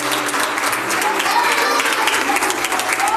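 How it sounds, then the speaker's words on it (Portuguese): A church congregation claps during a worship service, dense, continuous applause filling the room at a loud level, with a murmur of voices blended beneath it. "Palma para Jesus"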